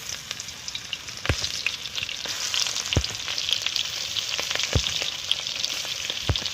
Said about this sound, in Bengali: তো চিংড়ি মাছগুলো আমি ভেজে নিচ্ছি।